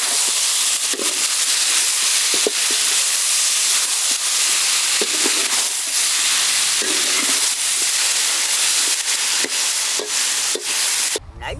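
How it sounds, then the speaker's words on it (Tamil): Steady loud sizzling and hissing from country chicken and vegetables sautéing in a pan, with occasional stirring clatters and scrapes throughout. "நறுக்குன கறியா இந்த காய்கறியோட போட்டு நல்ல வதக்கி எடுத்துக்கணுமுக்கா"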